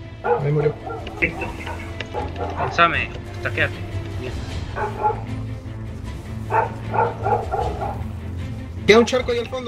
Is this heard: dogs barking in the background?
yes